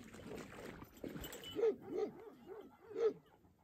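Several herd guard dogs bark in short bursts at a distance, faint over a soft outdoor background with rustling.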